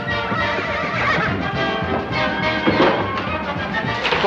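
A horse neighs and whinnies loudly and close by, with a busy, rough texture throughout and no talking, in a Western drama setting.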